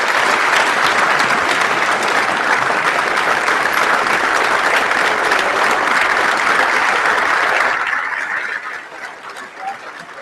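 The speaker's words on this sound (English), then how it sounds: "And let's give everyone that's standing a large round of applause." An audience at a symposium honoring former POWs gives a sustained round of loud applause to the standing veterans, then the clapping thins and fades out.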